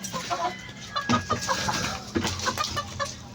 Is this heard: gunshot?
no